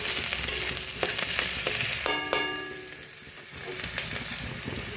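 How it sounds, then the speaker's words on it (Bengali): Onions sizzle and fry with whole spices in a pan for a hariyali chicken dish, a steady close crackle broken by stirring scrapes and a brief clatter of the utensil against the pan. "এবার পেঁয়াজটার সঙ্গে ভেজে নিচ্ছি।"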